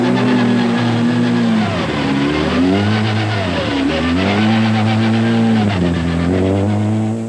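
A Vauxhall Nova rally car with a flapping tailgate on a 1988 Cartel Rally stage, its engine loud and close, revving hard with repeated rising and falling pitch through gear changes.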